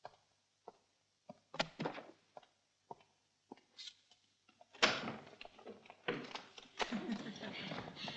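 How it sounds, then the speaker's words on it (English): A door is opened indoors: a few sharp clicks and knocks from the latch and handle, followed by a louder rush of movement and footsteps with voices in the background. "I'll open the door."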